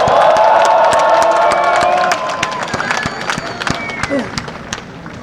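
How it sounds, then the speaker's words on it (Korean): Crowd at a Seoul National University candlelight rally cheers and claps loudly and densely, then the roar thins into scattered claps and voices fading under a murmur. "용기의 박수 부탁드리도록 하겠습니다."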